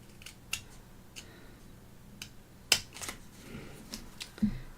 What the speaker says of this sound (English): I think I'm going to go ahead and cut these.